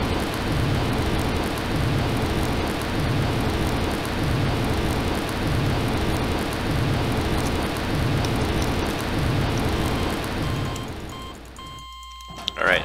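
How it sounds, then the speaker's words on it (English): A looping fire sound effect plays in Garry's Mod, a steady, dense crackling roar with a faint regular pulse, running loud and unbroken for about eleven seconds before cutting out abruptly. "It was still playing the fire sound effect for some reason."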